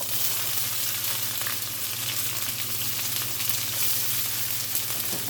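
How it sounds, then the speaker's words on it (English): Onions and peppers sauté for a five-bean chili, giving a continuous, even sizzle with no voices, steady from start to finish. "first of all, we're going to saute these onions and peppers"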